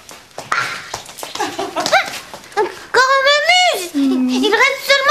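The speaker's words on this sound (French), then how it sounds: "Oh, Tibor, ils sont où les petits chiots?" Young puppies give high, drawn-out whimpers and yips, close and fairly loud, mixed with a person speaking to a dog and cooing at it.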